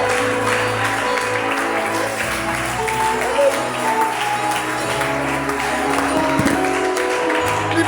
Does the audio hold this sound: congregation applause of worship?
yes